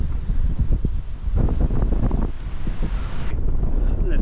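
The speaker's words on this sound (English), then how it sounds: "It's extremely windy, guys." Strong wind buffets the microphone on an exposed rock summit in stormy weather, a loud, continuous roaring rumble with gusting surges throughout and no talk.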